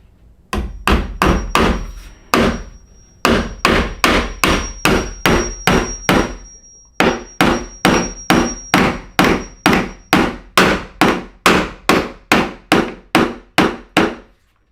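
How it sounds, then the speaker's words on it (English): Steady hammer blows drive a nail through an interior door hinge into the wall, about two dozen sharp, loud strikes in quick regular runs with one brief pause, no talking. "Then I'm going to take a nail, put it in here, and nail this side to the wall."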